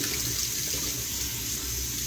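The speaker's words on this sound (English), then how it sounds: "I'm just getting warm water" Warm water runs steadily from a tap onto a washcloth at a sink, a close, continuous splashing rush with no talk, part of a night-time skin care routine.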